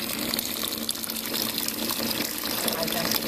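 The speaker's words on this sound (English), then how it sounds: "Holding the dentures over the sink area, I am going to rinse the dentures" Tap water running steadily into a sink as upper or lower dentures are rinsed beneath it, a continuous close splashing stream.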